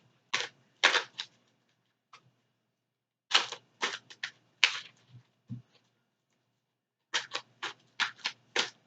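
Several quick bursts of crisp riffling and snapping as a deck of cards is shuffled, in three separate groups with brief pauses between them, close to the microphone.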